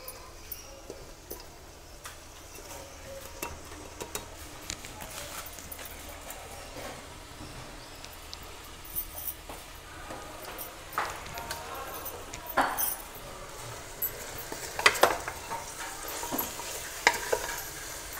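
Four chopped onions frying over a low flame in a pan for jackfruit curry, a soft continuous sizzle broken by frequent scraping stir strokes that grow busier toward the end.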